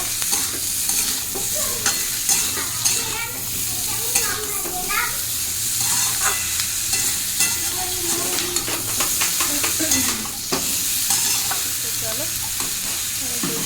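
Food frying in a pan with salt and turmeric while being stirred, a loud continuous sizzle broken by frequent spatula scrapes, close by, with faint children's voices in the background.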